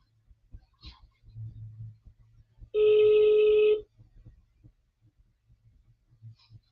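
A single loud burst of an unusual electronic phone ringtone lasts about a second, with faint low rumbling and soft background noise before and after.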